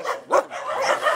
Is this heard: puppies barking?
yes